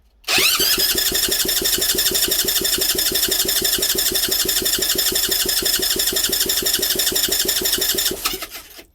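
A Honda Z50 motorcycle with a carburetor needing cleaning being cranked for about eight seconds, a loud, steady, rapid mechanical chugging that stops abruptly without the engine catching.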